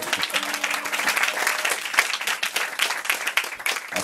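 An audience at an evening show claps loudly and continuously for a few seconds, a dense, close round of applause with no talking.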